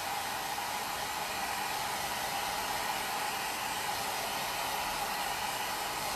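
A hair dryer blows steadily on a painted plaster piece with an aged finish, a constant loud airy roar that stays unchanged throughout with no other sounds.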